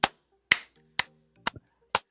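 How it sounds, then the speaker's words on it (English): Five sharp, dry hand claps ring out at an even, moderate pace about half a second apart, crisp and close against a quiet room, with a faint low tone lingering between them. "If you go on the stage in Eastern Europe, you'll do this, and people clap on the first."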